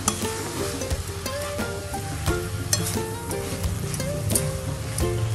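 Grated fresh coconut and sugar mixture for sweet barfi, moist and being stirred and sautéed in a pan, gives a steady sizzle with repeated scraping stir strokes, close and fairly loud throughout, no talking.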